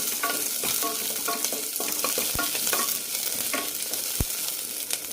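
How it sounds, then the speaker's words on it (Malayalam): Small onions (shallots) sauté in a pan while being stirred, a loud close sizzle broken by repeated scraping strokes of a spoon, with a couple of sharp knocks against the pan. "ചെറിയ ഉള്ളി കുറച്ച് കണ്ണാടി പരുവാകുന്ന വരെ വഴറ്റിയെടുക്കാം"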